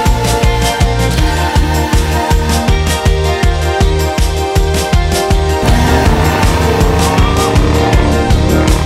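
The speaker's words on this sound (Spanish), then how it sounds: "Hemos llegado a esta zona mágica, desértica, en donde vamos a manejar estos coches espectaculares." Spectacular cars being driven in the Dubai desert, with engine and motion noise under loud, steady rhythmic music that dominates throughout.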